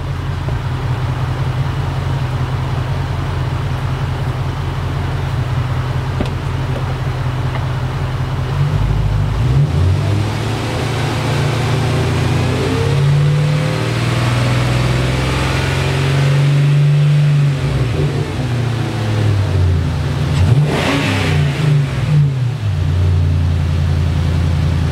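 A car engine is given a few throttle blips and then held at 2000-3000 rpm during a lambda sensor and fuel trim check, a steady close mechanical drone with the pitch rising and shifting as the revs change, and no talk.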